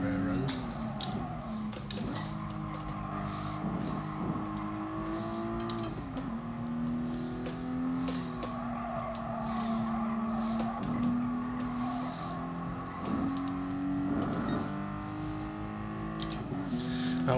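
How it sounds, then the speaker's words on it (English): A 3-litre twin-turbo rear-wheel-drive car in Gran Turismo Sport: a steady engine drone rising and falling in pitch through gear changes, fairly quiet and continuous throughout. "the cars do sound a bit quiet at the moment"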